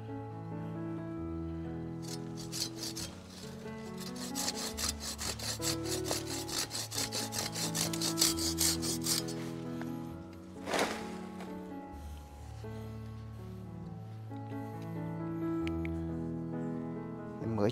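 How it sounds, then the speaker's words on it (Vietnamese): A coffee tree being sawn down by hand: steady back-and-forth rasping strokes of a saw through wood, fast and close in the middle, slowing near the end over background music. "Em sẽ cưa nó xuống luôn."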